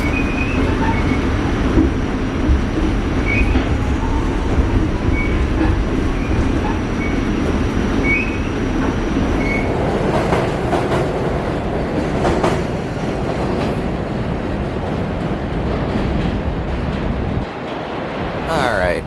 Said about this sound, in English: And well, this train's about to leave.